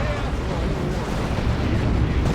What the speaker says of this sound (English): Cyclone missiles coming in.